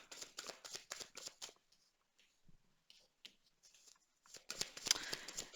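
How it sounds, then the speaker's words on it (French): A deck of tarot cards being shuffled and drawn, with rapid riffling bursts of papery flicks, a quiet stretch of soft handling, then another fast shuffle up close. "on va tirer d'autres cartes"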